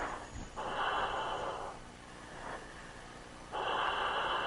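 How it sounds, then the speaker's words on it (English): A test pilot breathes through an oxygen mask during a Saab Gripen flight test, slow alternating inhales and exhales, loud and close, in long rhythmic rushes of air. "And he sounds fairly calm, at least when it comes to breathing."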